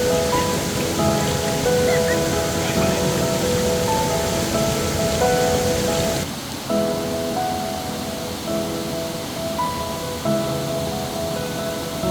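Oliyathupara waterfall at Mezhathur in monsoon rain roars in a steady, dense wash of rushing water, loud and continuous, with a slight shift in tone midway.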